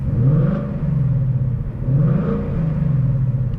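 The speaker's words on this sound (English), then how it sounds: "So quiet mode, you can hear, we'll give it a couple revs." A modified 2018 Ford Mustang GT V8 in quiet exhaust mode revs twice to about 3,000 rpm, a deep, muffled rumble swelling and falling back in two smooth pulls.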